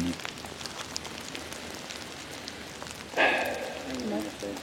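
Rain patters steadily on surfaces in the background, with faint talk and a brief louder voice near the end.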